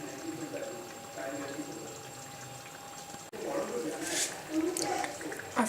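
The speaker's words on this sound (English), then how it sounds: "Now I'll add more water. It's normal room temperature water to wash the butter properly." Room-temperature water poured into a bowl of churned butter to wash it, a splashing, rising pour in the second half following quieter trickling, with faint speech audible at the start.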